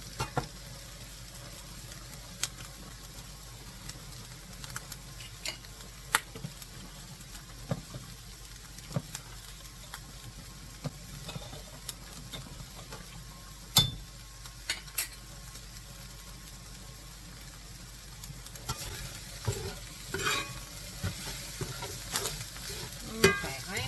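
Macaroni, ham and cheese being stirred in a pot on low heat, with a soft, continuous scraping and gentle sizzle, near and fairly quiet, picking up slightly in the last few seconds.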